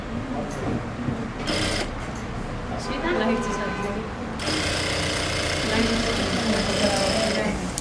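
A sewing machine stitches an Afghani salwar, running in a fast steady whir with brief pauses, close and loud, while a woman explains the work over it.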